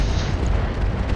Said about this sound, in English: Shoot your missiles